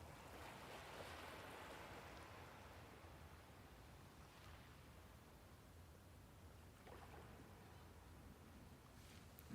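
Ocean waves in relaxing meditation music, a soft, washing surf rolling in and receding, faint and distant, with no voices.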